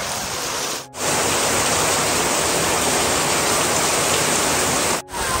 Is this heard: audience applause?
no